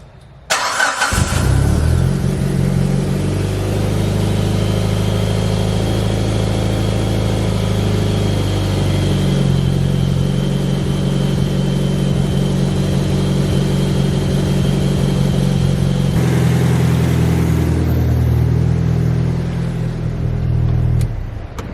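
An engine cranks and catches, then runs at a steady, loud idle for a long stretch with a slight shift in tone near the end.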